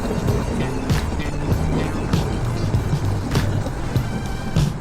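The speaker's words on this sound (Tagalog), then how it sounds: "Grabe ang traffic, tukod na tukod from Sukat to Bikutan" Heavy road traffic crawls along a congested stretch from Sukat to Bicutan, a close, continuous rumble of engines with recurring hisses and swells of passing vehicles.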